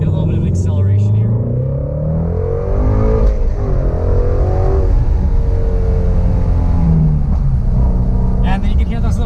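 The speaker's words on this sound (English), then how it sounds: "you can hear those little backfires out of the exhaust if you let out the throttle at a little bit higher RPMs" A Ford Shelby GT350 with its exhaust valves open revs loudly and steadily, its deep engine drone filling the clip, with faint crackling backfires from the exhaust as the throttle is lifted at higher RPM.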